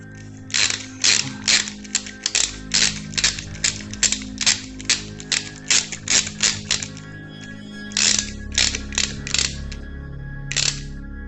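Screws being driven by hand into an Apex DC5 HD carbon drone frame, with a fast series of sharp ratcheting clicks in irregular bursts, close and clear, and no talking.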